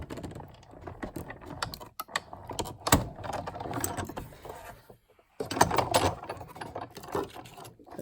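A hand-cranked die-cutting machine rolls a card through its plates, giving a steady ratcheting, clicking mechanical grind with a brief pause midway before the cranking resumes.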